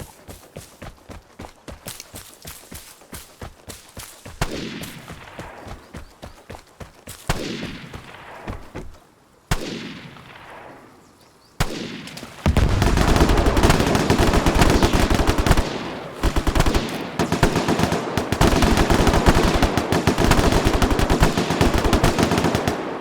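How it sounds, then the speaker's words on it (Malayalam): Rapid bursts of automatic gunfire in the survival shooter game Vigor, loud and close. Repeated volleys grow denser and heavier toward the end. "വെടിവെച്ച കിടക്കുന്നുണ്ട് പക്ഷേ പുറത്താരും കാണുന്നില്ല അതാണ് രസം എന്നെയാണ് വെടിയിക്കുന്നത്"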